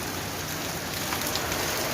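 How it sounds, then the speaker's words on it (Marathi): Steady, heavy rain pours without a break, a dense continuous hiss of drops striking surfaces close by. "बघा किती पाऊस आहे"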